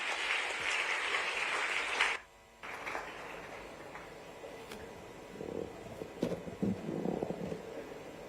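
Audience applause at a World AIDS Day 2024 government event in Indore, a dense clapping wash for about two seconds that cuts off abruptly, followed by quieter crowd and room noise with some rustling.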